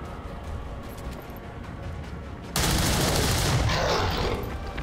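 Gunfire in XCOM 2: War of the Chosen: a low, steady backdrop gives way to a sudden loud burst of sustained shooting that carries on to the end.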